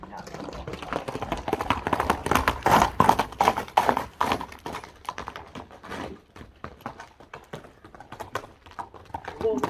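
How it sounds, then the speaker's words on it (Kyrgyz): A horse galloping at a horseback goat-grabbing game, with rapid rhythmic hoofbeats heard close and fairly loud under excited commentary and crowd voices throughout. "Чабып кетти туугандар."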